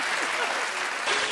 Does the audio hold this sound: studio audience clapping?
yes